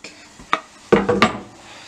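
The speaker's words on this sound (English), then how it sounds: "then you just toss the veggies in" Chopped vegetables are tossed into a cooking pot for homemade chili, landing as a few quick clattering thuds and scrapes against the pot, close by with no talking.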